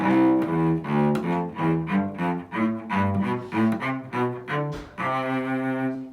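A scale in thirds on a single melodic instrument, clear sustained notes stepping up and down in an even rhythm with brief gaps, ending on a longer held tone, with no voices.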